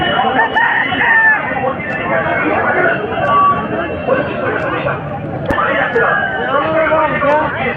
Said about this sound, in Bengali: বিভিন্ন রঙের এখানে মুরগি বিভিন্ন সাইজের মুরগি এখানে দেখতে পাওয়া যাচ্ছে